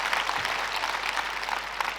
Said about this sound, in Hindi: एक बार जोरदार तालियों से स्वागत और अभिनंदन करें।